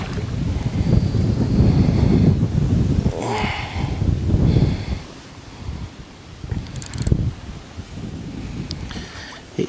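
Gusty wind buffets and whistles past an outdoor microphone during a fishing session. It is loudest and roaring early on, then eases into lighter gusts with faint rustling.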